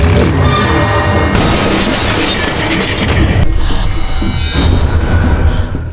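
A car rammed from behind in a psychopath horror film scene: a loud, sustained crash of crunching metal and shattering glass that fills the whole stretch, dense and close, with no voices.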